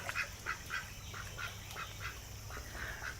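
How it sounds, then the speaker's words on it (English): Ducks fight, quacking in quick, agitated bursts, several calls overlapping, heard faintly from a short distance outdoors by a creek. "duck fight, duck fight."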